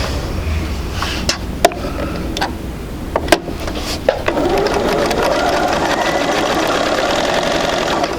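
Sharp clicks and taps from setting quilt pieces under the presser foot, then a sewing machine whirs steadily and fairly close, stitching the fabric pieces together.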